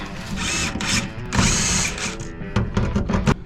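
A power drill drives screws for a fuel tank sending unit, its motor whining in loud bursts that start and stop several times, close up.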